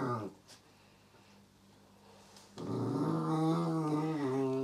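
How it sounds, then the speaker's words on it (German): A dog growls low and continuously while another dog licks its head, the rumbling faint at first and then swelling into louder, tonal growls and whines toward the end. "Das Knurren im Hintergrund ist Chira, die Susi gerade den Kopf ableckt"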